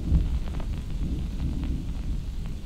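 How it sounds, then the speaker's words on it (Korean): Rain and distant thunder sound effects layered for a Korean audio drama scene, a steady loud wash of rainfall under a low rumbling roll. "천둥 소리나 빗소리 그리고 파도 소리"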